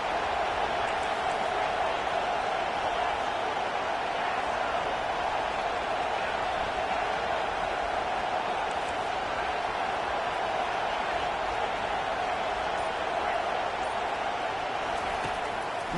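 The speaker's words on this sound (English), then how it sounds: "And how loud is it in this building? This is crazy. These fans are going absolutely nuts." Roaring crowd noise fills an indoor college football stadium on third down, a steady, dense wall of cheering and yelling that holds loud and unbroken throughout with no clear pauses.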